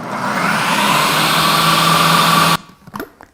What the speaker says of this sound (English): And then we'll just put on the lid and then mix it on high for about a minute or until it's completely blended smooth.